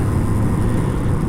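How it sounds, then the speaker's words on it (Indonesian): Kawasaki Ninja RR 150, an older two-stroke sport motorcycle, its engine running with a steady, dense, raspy drone, close and fairly loud, with no voices over it. "Suara Ninja emang kayak gitu, cempreng"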